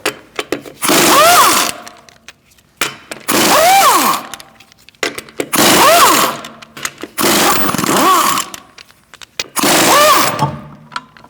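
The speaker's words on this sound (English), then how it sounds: "Using a 19mm socket, we're going to remove our wheel." A power tool with a 19mm socket spins off the lug nuts on a 2016-2019 Chevrolet Cruze rear wheel, five loud close whirring bursts with rising and falling pitch, separated by short pauses.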